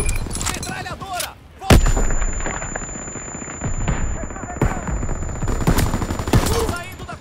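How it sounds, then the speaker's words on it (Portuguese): In Call of Duty WWII, loud, close machine gun fire rattles in rapid continuous bursts with heavy booming gunfire and explosions, and shouted voices are mixed in. "Metralhadora!"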